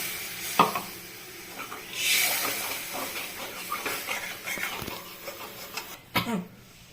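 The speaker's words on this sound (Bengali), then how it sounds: "জলটা ফুটে গেছে" Water being heated to a boil in a karahi used for cooking small prawns: bubbling, hissing simmer with scattered clicks and a burst of steam hiss near the middle, heard close and alone.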